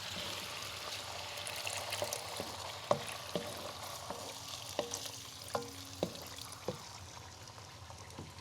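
Stir-fried vegetables keep up a steady sizzle in a pan as a little water is added, with repeated sharp taps of a spatula against the pan over the frying hiss.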